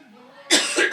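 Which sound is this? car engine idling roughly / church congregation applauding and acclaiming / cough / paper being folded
cough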